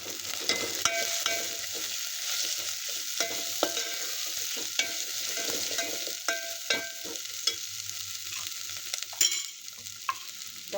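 Masala frying in oil in a pan for soya chunks biryani, a steady close sizzle with frequent scraping stirs and spoon clicks throughout, no voices.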